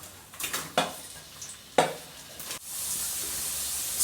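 Onions sautéing in hot coconut oil in an earthen pot for a Kerala crab curry, with a few sharp scrapes and clinks of a spoon against the pot, then a steady, close sizzle swelling toward the end.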